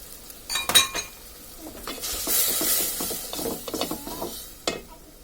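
Whole spices (cardamom, cinnamon, bay leaf) sizzling in hot oil as they are stirred, with a crackling sizzle under repeated metallic spoon clinks and scrapes against the pan.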